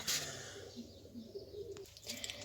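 Soft, low pigeon coos murmur close by, with a brief rustle at the start and some faint chirping near the end.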